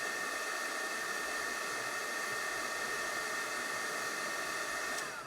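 Steady, even blowing hiss of a heat tool warming a bangle coated with embossing powder, continuous and close for the whole stretch, no talk.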